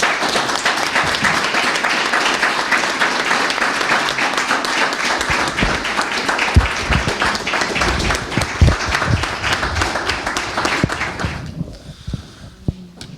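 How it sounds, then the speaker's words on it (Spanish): An audience applauds after a presentation of a theatre play, sustained dense clapping from many hands that holds steady for about eleven seconds, then fades to a few scattered claps. "el aplauso que le hemos dado también es significativo"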